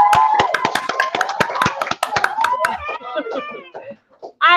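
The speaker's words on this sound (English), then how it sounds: "let's give Mrs. Truman a great big round of applause as well." Participants in an online school morning meeting clap in quick, regular beats, close and loud, while a voice talks over the clapping and the claps fade out near the end.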